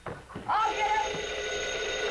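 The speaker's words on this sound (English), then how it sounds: "answer the phone, will you" An old-fashioned telephone bell rings in one sustained, bright trill after a couple of brief voice sounds, continuing steadily to the end.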